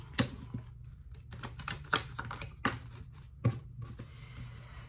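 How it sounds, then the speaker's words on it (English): Tarot cards are shuffled and flying out of the deck, with sharp close clacks and fluttering riffles coming in irregular bursts against a quiet room, with no talk. "cards are flying now"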